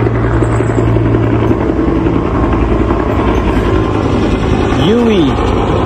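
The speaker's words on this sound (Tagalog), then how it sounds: "Huey helicopter, World War II helicopter, buhay pa, no?" A Huey helicopter drones steadily and loudly nearby with a constant rotor and engine hum, while a brief whistling sweep rises and falls near the end.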